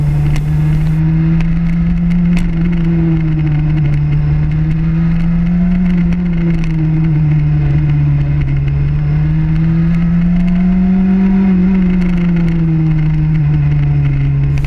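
A motorcycle engine drones steadily and loudly while riding, its pitch rising and falling gently through turns, captured up close by a helmet-mounted GoPro with wind rush underneath.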